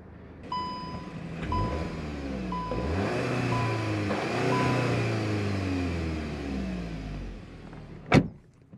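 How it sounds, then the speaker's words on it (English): A 2023 Volkswagen Golf GTI engine is revved repeatedly up into its soft limiter and falls back each time, close and steady, with repeating dashboard chimes at the start and a sharp click at the end. "Nice Volkswagen soft limiter."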